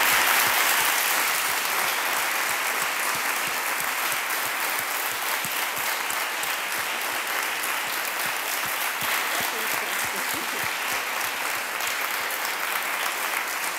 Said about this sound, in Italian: Allora innanzitutto direi un grande applauso alla dottoressa Iatta.